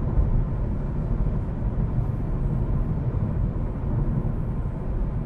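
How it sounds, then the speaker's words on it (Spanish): Wind noise inside a tall Kia e-Niro electric car cruising at 120 km/h, a steady broadband rush and low road rumble with no speech, unchanging throughout. "noto mucho ruido de aire."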